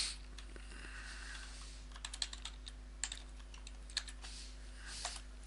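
Fingers tap at a computer keyboard close by, quiet irregular clicks in short bursts over a steady low electrical hum, with no speech.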